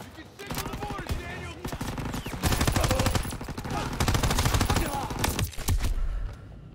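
Rapid, dense automatic gunfire from a Call of Duty WW2 battle, with loud sustained bursts that barely pause across the whole stretch.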